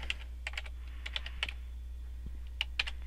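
Password being typed on a computer keyboard in a Windows XP command prompt: irregular light key clicks in short bursts over about three seconds, close and fairly quiet over a steady low hum.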